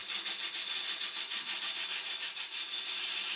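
Gouge cutting a honey locust burl bowl on a lathe, a steady, hissing scrape with a fast, regular pulse as the spinning wood passes the tool, continuous and fairly close.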